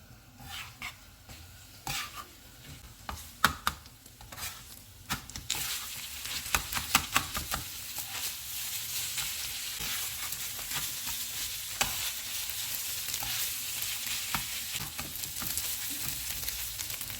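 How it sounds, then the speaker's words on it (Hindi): Tawa keema mixed with yogurt fries on medium heat. A busy run of spatula clatters and scrapes gives way to a steady, even sizzle that fills the rest of the time. "अब हम चूल्हे को मीडियम कर देते हैं और इसे 2 मिनट तक और भूनेंगे।"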